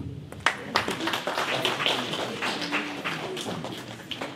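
Church congregation at a Paris prayer vigil applauding, brisk irregular hand claps with sharp individual strikes over a murmur of voices, moderately loud and close.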